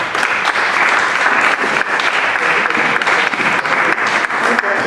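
An audience at a presentation of an Asturian film festival claps warmly, dense continuous applause filling the room for several seconds with a few voices mixed in.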